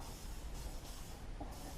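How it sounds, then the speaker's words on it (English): Cleaning spray hisses in a brief, quiet burst onto a McCulloch lawnmower with a Briggs and Stratton engine, close but faint, with no talk. "Just use some spray all round, let that penetrate a little bit"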